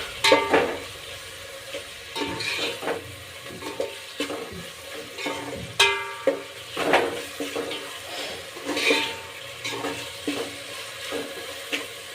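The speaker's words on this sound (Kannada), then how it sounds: "ಈಗ ಸ್ವಲ್ಪ ಎಲ್ಲನೂ ಮಿಕ್ಸ್ ಮಾಡ್ಕೊಳ್ಳೋಣ." Puffed rice (mandakki) and its mixed ingredients, North Karnataka style, stirred in a pan with a spoon: close, irregular scraping and rustling strokes with occasional sharper clacks against the metal, no voices.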